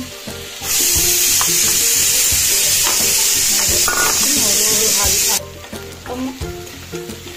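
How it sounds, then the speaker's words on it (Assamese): Potato, capsicum and local chicken fry in a pan with a loud, continuous close sizzle and occasional stirring clinks, then the hiss drops away to quieter cooking sounds. "এনেধৰণে মই ভাজি আছোঁ আলু কেপচিকাম আৰু লোকেল কুকুৰা"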